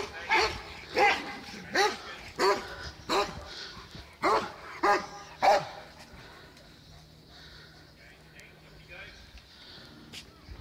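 Dogs bark in a quick burst of loud, close yaps and woofs along the River Dee near Eccleston, Chester, then fade into quieter whimpers over open outdoor ambience.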